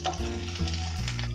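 Pieces of onion frying crisp in a kadai, giving a continuous close sizzle with a low steady hum beneath it; nobody speaks.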